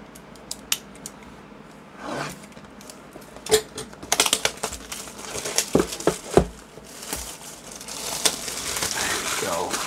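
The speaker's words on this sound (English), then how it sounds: "so let's get the box open" Cardboard box packaging of a PCCOOLER RC600-67 low-profile downdraft CPU cooler being opened up close, with scattered crisp tearing, scraping and clicking handling noises that grow busier and denser toward the end.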